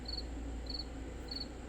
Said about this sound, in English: She's been enamored with the crickets. They chirp morning, noon, and night.